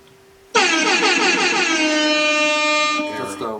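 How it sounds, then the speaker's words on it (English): A single loud air horn blast, brassy and sustained for about two and a half seconds, close up and alone. "Air horns and applause for our guy Seth Rogan."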